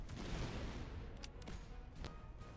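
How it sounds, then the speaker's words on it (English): Musket volley fire in the strategy game Master of Command, a faint, dense crackle of many gunshots rolling together with a few sharper cracks standing out, distant and low, no talk. "so they're firing into their flank now"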